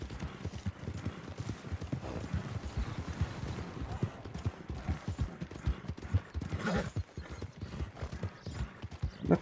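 Horse hooves clip-clopping in the Red Dead Redemption 2 video game, a steady rhythmic gallop of repeated strikes running throughout at moderate loudness with no talk over it.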